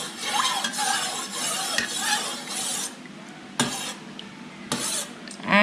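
A spoon stirs homemade mouthwash with peppermint essential oil in a container, giving a close swirling scrape with light clinks, then a few sharp taps against the rim.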